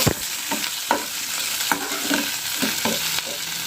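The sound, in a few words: stirring tomato, chili and curry leaves frying for semiya upma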